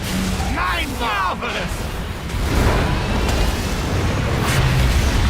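A deep, booming explosion in a World of Warcraft raid rolls in after a few seconds of people talking and holds as a loud, sustained rumble to the end.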